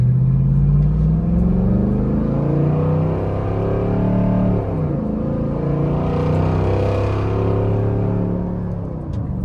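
A Jeep Rubicon 392 towing a trailer pulls out onto a road, its engine a heavy, continuous low rumble that swells and eases as it accelerates, with no talking.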